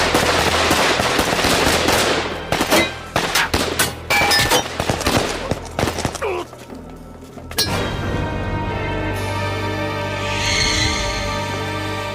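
Sustained bursts of gunfire from a kung fu action film, rapid machine-gun-like volleys and sharp cracks for several seconds, then a break into a ringing, reverberant aftermath.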